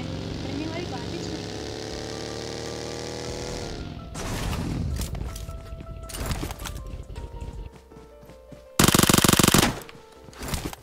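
Gunfire in an online video game with voice chat, rapid automatic bursts and sharp shots among engine drones and game effects, loud and close, ending in a dense burst of firing.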